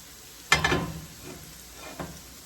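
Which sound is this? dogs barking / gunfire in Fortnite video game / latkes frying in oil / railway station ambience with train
latkes frying in oil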